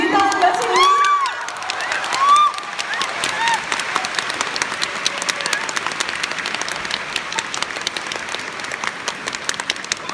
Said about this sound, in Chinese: 下面请我们用最热烈的掌声请出天津著名相声演员